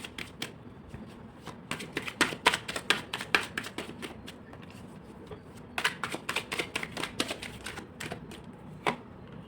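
A tarot deck is shuffled close up in quick bursts of crisp card riffles and flicks, with short pauses between runs and no talk over it.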